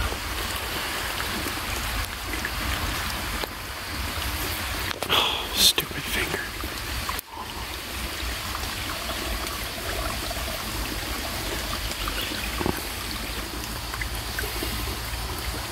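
A dried-up stream begins to flow again, with soft, steady trickling water close by under a constant outdoor hiss, broken by a brief knock and a couple of small thumps, while a person whispers faintly near the middle.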